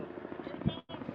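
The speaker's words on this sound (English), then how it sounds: "There's a helicopter going by," A helicopter's rotor drones steadily from a distance at the Baja 500 off-road race, a low rumbling thrum that briefly cuts out near the end.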